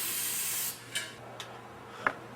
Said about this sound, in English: then started moving the can a little slower to get that wetter coat.